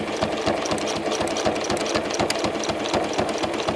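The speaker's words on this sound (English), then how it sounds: "my machine is making quite a bit more noise than usual as it goes through these layers" A sewing machine free-motion quilting through layers of fusible web stitches steadily and rapidly, its needle thumping in a fast, even rhythm with a loud, slightly labored mechanical clatter throughout.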